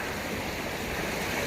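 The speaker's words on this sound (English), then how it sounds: "we just came up to a little creek crossing here" A small creek burbles and rushes softly at a trail crossing along the Pacific Crest Trail, a brief, steady wash of flowing water with no voices.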